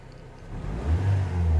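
A car engine, just restarted after a new battery was fitted, revs up from idle into a deep, swelling roar, close by and growing louder.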